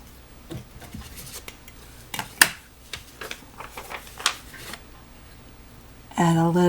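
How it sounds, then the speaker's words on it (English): Extra quilt fabric is trimmed nearby, with scattered crisp snips and light clicks at uneven intervals over a quiet room, ending in a short, brighter tonal sound. "We'll trim that extra fabric."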